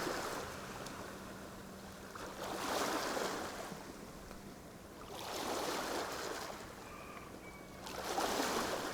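Gentle water sloshing and washing against a shore in slow, recurring swells, soft and continuous with quiet lulls between.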